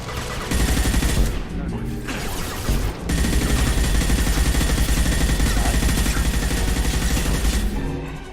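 Rocket fire and explosions in a Mass Effect 2 firefight: a dense, continuous roar of blasts and rapid gunfire that runs loud and unbroken almost the whole time, with only brief dips.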